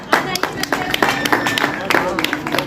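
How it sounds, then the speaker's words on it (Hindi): Rapid, dense clapping greets the winners at a Christmas and New Year celebration held in an ashram, with voices talking over the applause. "जोरदार तालियों से स्वागत।"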